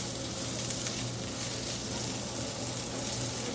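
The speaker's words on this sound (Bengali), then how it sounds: "একটু নাড়াচাড়া করে রসুনটাকে একটু ভেজে নিই" Chopped garlic fries in oil in a wok over high heat while being stirred, producing a dense, loud, unbroken sizzle that stays even from start to finish, with no voices.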